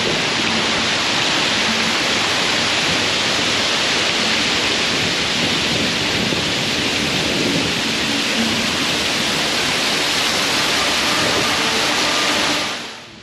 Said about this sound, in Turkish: Otomatik şelaleler yapmışlar.